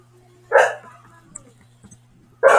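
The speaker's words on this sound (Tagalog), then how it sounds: "Ang aking mga aso ay nagigising." Dogs barking indoors, two sharp, close barks about two seconds apart over a steady low hum, with faint small noises between them.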